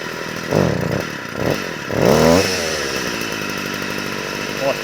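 A line trimmer engine sputters and revs in short uneven bursts during carburetor idle adjustment, its buzzing note rising and dropping before settling into a rough, close, steady idle.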